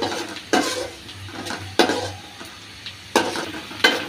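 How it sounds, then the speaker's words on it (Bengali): Chopped onion sizzles in oil left over from frying small fish, with four sharp utensil knocks against the pan spaced about a second apart over a continuous low frying hiss. "আমি এবার ওই মাছ ভাজার তেলের মধ্যেই দিয়ে দিছি পেঁয়াজ কুচি"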